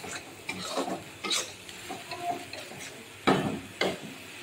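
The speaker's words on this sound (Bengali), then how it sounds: "এবার মশলাটা এবার ভালো করে কষাতে থাকবে, একটু টাইম নিয়ে কষাতে হবে।" Spice masala for a prawn curry being sautéed and stirred in a pan, with scraping spatula strokes in uneven bursts over a soft sizzle, close and without talking.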